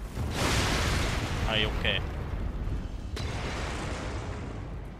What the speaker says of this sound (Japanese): この爆発壺が厄介なんだよな。